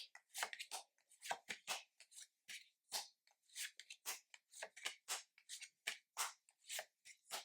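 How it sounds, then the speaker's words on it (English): Tarot cards are shuffled up close in quick, crisp riffles and slides, a rapid papery rhythm of short bursts with brief pauses, quiet and without talk. "And this deck shuffles like a dream."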